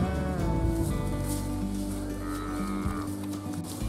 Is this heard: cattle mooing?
yes